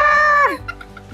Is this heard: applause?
no